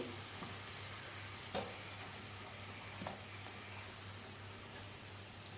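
Masala frying in oil on a medium flame while making a fish curry, a faint, even sizzle running throughout with a low steady hum beneath and a couple of soft knocks of a utensil, no voices.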